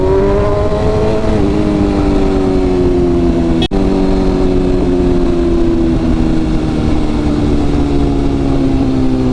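A BMW S1000RR superbike engine revs at night on a service road, with a steady loud drone whose pitch rises and then slowly settles, broken by one brief sharp click partway through.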